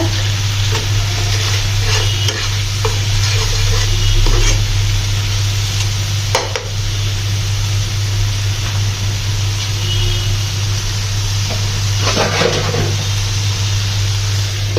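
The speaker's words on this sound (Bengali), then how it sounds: "মশলা কষানো শেষ, এবার মাছ দিয়ে দিব।" Spice paste of dried chili powder, coriander powder, green chili and salt frying in a pan for fish bhuna, a loud dense continuous sizzle with occasional stirring scrapes, steady throughout and no speech.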